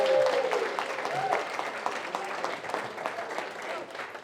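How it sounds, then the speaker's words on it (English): Wedding guests at the reception speeches break into sustained applause, a dense, even patter of many hands that continues steadily throughout, with a brief voice trailing off at the very start. "one more massive round of applause for Meg."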